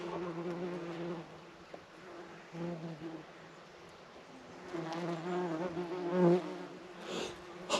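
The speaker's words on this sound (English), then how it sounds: "all the bees on there just moving about in this little breeze" Bees buzz steadily over a field of sainfoin, corn cockle and cornflower in a light breeze, a soft continuous hum that swells and fades, with faint rustling and a brief distant voice.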